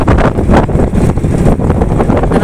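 Strong wind buffeting the microphone on a boat at sea among waves, a loud, continuous roaring rumble with gusting surges and no voices.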